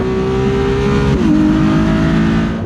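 A steady, loud V6 engine roar from a Ferrari 296 GTB, heard unamplified through a hot pipe into the cabin, drones close by, its pitch dipping slightly partway through, with no speech over it.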